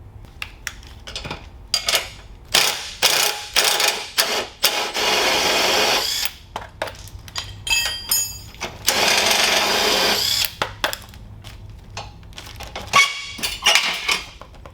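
Socket wrench and tools working the front axle nut on a TrailMaster MB200-2 minibike, with bursts of ratcheting and metallic clicks, a clanking hit and pauses between, close and fairly loud.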